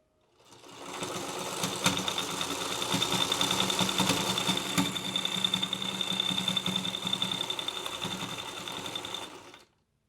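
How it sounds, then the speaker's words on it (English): A sewing machine stitches a seam in fabric for a sock dryer ball pocket, running steadily for about nine seconds, a fast even mechanical whir with rapid stitching rhythm, close and alone. "we're going to go over to the sewing machine and stitch a seam in here to start the pocket"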